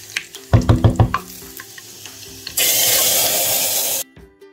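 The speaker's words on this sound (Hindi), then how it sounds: "इसका मैं डालूंगी बनाऊंगी तड़का।" A tadka of onion, garlic, ginger and whole red chillies cooking in a pan: a quick run of rhythmic clanks and stirring, then a loud steady hiss of sizzling oil that stops abruptly.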